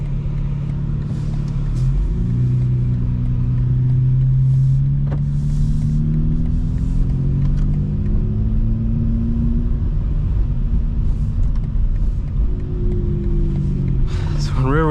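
A 2025 BMW M4 cruises in rear-wheel drive mode with exhaust burbles off, its engine droning steadily and shifting pitch through gear changes from inside the cabin, with a voice speaking over it.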